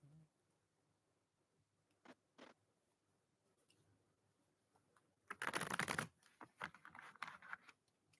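A rapid riffle of playing cards in one dense burst, followed by softer scattered rustles and taps of the cards being handled nearby.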